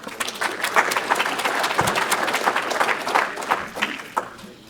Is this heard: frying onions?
no